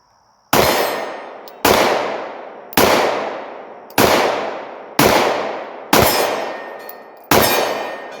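A Glock 17 pistol fires seven loud, sharp shots one-handed, evenly spaced about a second apart, each crack ringing out into a long echoing decay.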